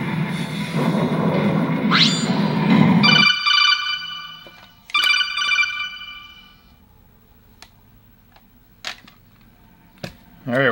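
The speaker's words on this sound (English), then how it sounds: "my ringtone is the Metal Gear Solid ringtone, and it scares the crap out of me every time it goes off" A phone plays the Metal Gear Solid ringtone in short bright electronic bursts after a loud stretch of game noise, followed by scattered clicks and taps.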